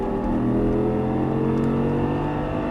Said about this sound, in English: back in the throttle up to the top of the hill